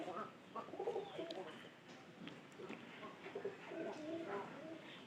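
A pigeon nesting outside its house while gathering straw coos softly in low, rolling phrases, with a quiet murmur of voices and background noise around it.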